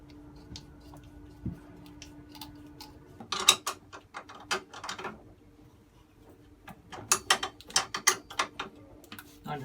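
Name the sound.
wrench unscrewing motor mounts of an old Yanmar boat engine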